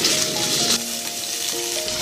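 Black pepper beef with noodles and a mixed sauce tossed together in a hot pan at home, a steady close sizzle with faint scraping and a few ringing tones, no voices.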